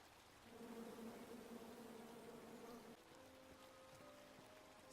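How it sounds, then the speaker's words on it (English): A swarm of bees buzzing in the King's Quest video game, a steady, faint droning hum that holds for several seconds and then shifts to a thinner, higher tone. "Come at me, bees!"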